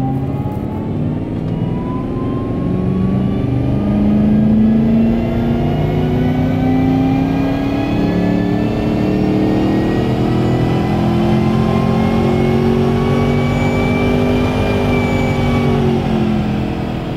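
A tuned car engine revs hard at full power on a rolling-road dyno during a base fuel-tuning run, a loud continuous roar with harmonics sweeping steadily upward as revs climb for about seventeen seconds, no talking.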